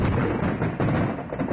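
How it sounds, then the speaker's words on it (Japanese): Fireworks at a night display, a dense, continuous roll of booming blasts and crackle at close range, loud and steady across the whole stretch with no pauses. "もう花火終わり。"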